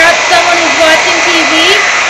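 A blow dryer runs loudly and steadily, a constant close whooshing roar with a slight wavering whine, while someone speaks over it.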